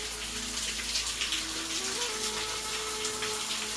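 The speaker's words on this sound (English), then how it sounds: "Comes over here to a little waterfall coming down." A constant rush of a small waterfall falling close by in a gorge at Red River Gorge fills the clip, with a faint wavering tone running beneath it.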